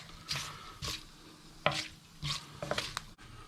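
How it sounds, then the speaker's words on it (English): A cinnamon stick and a teaspoon of fenugreek seeds gently fry in oil in a pan for an Indian green chicken curry, a steady soft sizzle broken by several scraping stirs, close and quiet. "One cinnamon stick we'll just throw in, and about a teaspoon of fenugreek seeds, and we'll just gently fry them just for a minute or two."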